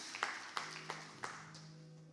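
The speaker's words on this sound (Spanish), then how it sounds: "Vamos a dar un fuerte aplauso a nuestro Dios." A church congregation gives a few scattered hand claps at the close of a sermon, faint and somewhat distant, about five separate claps spread unevenly over a couple of seconds against a low hum.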